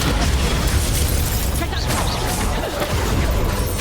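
A Bombarda spell explosion in Hogwarts Legacy makes a loud, dense boom that fills the whole short stretch with a sustained rumbling burst.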